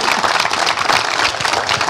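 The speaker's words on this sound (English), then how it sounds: "Clap for your mamas every day." An audience applauds steadily for the whole stretch, a dense wash of many hands clapping at once with no voices over it.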